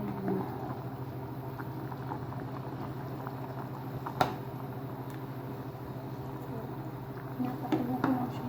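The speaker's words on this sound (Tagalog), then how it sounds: "kumukulo na siya, guys." Steady bubbling of sauce for chicken gizzards boiling in a pot, a continuous soft gurgle at close range with one sharp click partway through.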